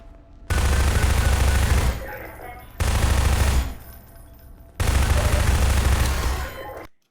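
Three long bursts of rapid automatic gunfire in Half-Life 2, each lasting a second or more and separated by short pauses, loud and close, with the last burst trailing off into silence.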